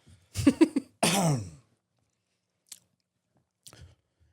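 A couple of close, harsh coughs in quick succession, followed by silence with a few faint clicks.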